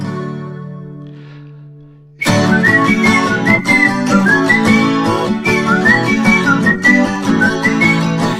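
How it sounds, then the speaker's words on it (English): A person whistles the melody of a 1967 pop song, a clear, bright tune of sustained and gliding notes carried with instrumental backing, loud and close after a quiet opening moment. "And I'll whistle through them"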